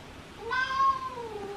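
A pet cat lets out a single clear, drawn-out meow that rises and then falls, close and moderately loud against a quiet indoor background.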